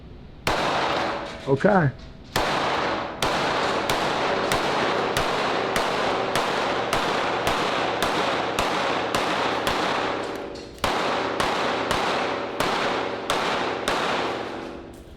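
Tisas PX-57 5.7mm pistol firing a long, steady string of about twenty sharp, loud shots with short even gaps, and a brief voice near the start.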